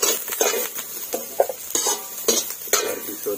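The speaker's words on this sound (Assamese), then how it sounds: "তেতিয়া চয়াবিন আৰু আলুটো ভজা হৈ গ'ল" Soybeans and potatoes stir-fried in a pan, a spatula scraping and knocking in repeated strokes close by, over a soft continuous sizzle.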